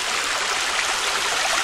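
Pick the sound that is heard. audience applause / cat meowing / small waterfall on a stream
small waterfall on a stream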